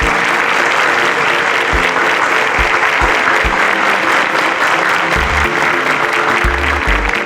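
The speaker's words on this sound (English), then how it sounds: "Please give yourselves a round of applause." A studio audience at a televised quiz show claps loudly and continuously, a thick, even roar of many hands, with occasional low thumps beneath it.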